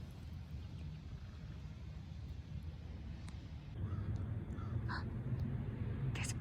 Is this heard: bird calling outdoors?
yes